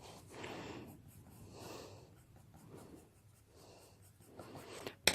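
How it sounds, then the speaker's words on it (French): Polychromos colored pencils hatching on paper, heard close and quiet as a series of soft scratchy strokes in short bursts, with a sharp clatter at the very end. "Vraiment hachurer grossièrement."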